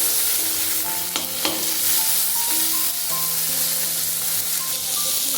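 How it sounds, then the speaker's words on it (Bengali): Onion and chopped tomato frying together in hot oil for a Bengali bhetki fish curry, a steady close sizzle with stirring scrapes and clinks of the utensil against the pan throughout. "টমেটোটাও পেঁয়াজের সাথে ভেজে নিচ্ছি।"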